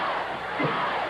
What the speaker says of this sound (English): Crowd yelling go.